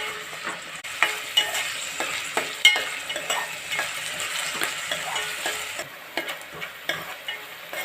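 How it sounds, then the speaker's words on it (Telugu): Sliced onions fry and sizzle in a pan for mutton curry, with a steady hiss and repeated scraping stirs of a spoon, up close and with no speech. "బాగా ఉల్లిపాయలు కూడా బ్రౌన్ కలర్ వచ్చే వరకు వేగాలండి"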